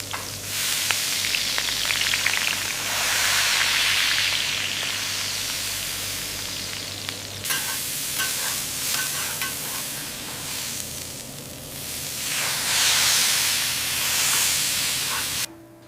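Squid searing in a hot pan gives a loud, steady broadband sizzle with a brief calmer spell midway before the hiss surges again, heard alone without voices.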